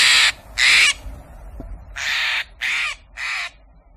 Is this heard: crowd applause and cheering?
no